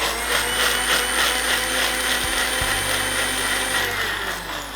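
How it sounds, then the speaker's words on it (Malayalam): An electric blender whirs steadily up close, blending a pomegranate and lime drink in one continuous motor drone with a high whine over it. "അപ്പോൾ ഇതെല്ലാം കൂടി ചേർത്തിട്ട് ആദ്യം ഒരു ചെറിയൊരു ബ്ലെൻഡിങ് ആവാം"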